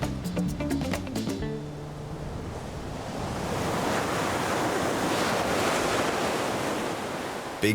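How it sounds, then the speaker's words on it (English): Atlantic Ocean surf breaking along the Dakar coast in Senegal, a continuous roar of big waves that swells louder midway, with wind rushing across the microphone and brief music at the start. "Big waves, warm water, all year round."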